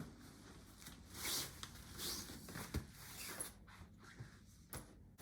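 Fabric cover on an Uppababy Vista V3 stroller mattress being unzipped, a series of soft rasping zipper pulls and rustles close by, with a few sharper clicks, no talking.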